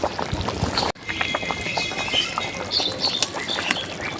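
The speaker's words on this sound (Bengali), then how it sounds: "দেখুন কেমন টকবক টকবক করে ফুটছে।" Chicken curry boils hard in a pot, giving a dense, close bubbling and gurgling that continues throughout, broken by one brief dip in the sound.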